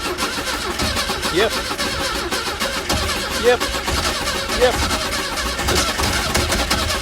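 Frazer Nash car engine cranking on its starter, a rapid churning whir with a few uneven catches, heard close up while people talk over it.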